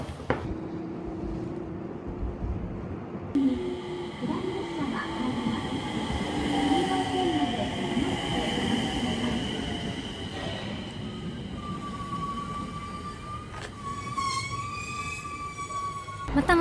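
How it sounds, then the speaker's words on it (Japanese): An IGR Iwate Galaxy Railway train travels toward Hachinohe, a steady interior rumble of wheels on track with a rising whine and a squeal near the end; a voice speaks over it. "また IGR に乗って八戸まで行きます。"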